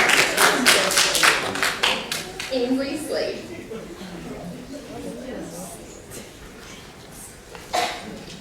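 Audience applause at a white coat ceremony for accelerated BSN nursing students: a burst of brisk, close hand claps that thins out over a few seconds, with voices speaking throughout.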